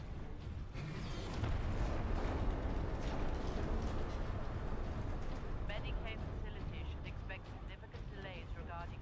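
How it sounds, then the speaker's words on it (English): Grenade blasts in Warhammer 40k: Space Marine, a loud booming explosion that swells into a sustained rumble of gunfire and debris, with someone talking over the din. "I didn't mean to throw that other grenade"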